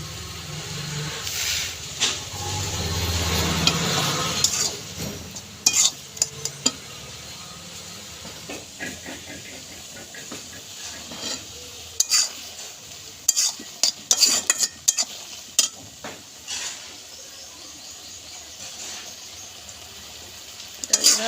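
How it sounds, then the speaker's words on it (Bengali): Boiled taro leaves are stirred around a hot pan with a utensil, making soft, close scraping and a steady light sizzle, with sharper clicks of the spoon against the pan scattered throughout. "এভাবে নেড়ে চেড়ে নেবো"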